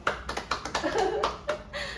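Short burst of audience clapping at an evening-class student talk show, a handful of close, uneven claps spread across about two seconds with a faint tonal murmur underneath.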